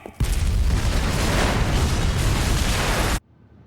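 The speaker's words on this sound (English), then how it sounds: "I nearly forgot about the explosion because it didn't seem like it was gonna happen" A loud, sustained explosion at a mental hospital in the video game Unheard bursts in abruptly and roars as a dense, rumbling blast for about three seconds, then cuts off sharply into near silence.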